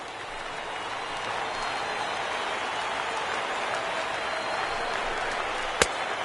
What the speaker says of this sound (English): listen to this crowd now. They are really into this.